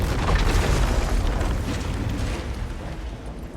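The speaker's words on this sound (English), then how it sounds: "Second bomb. They never see it coming." A bomb explosion in the 007 First Light video game: a deep, loud rumbling boom that fills the whole clip and slowly fades.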